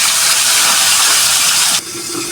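Two wide pieces of fish fry in a pan, giving a loud, steady, dense sizzle that drops abruptly near the end.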